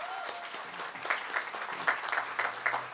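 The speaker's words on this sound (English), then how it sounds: "If we can give one more round of applause to all of our speakers." Audience applause for the speakers at a student center renaming ceremony, moderately loud clapping that builds into uneven rhythmic bursts.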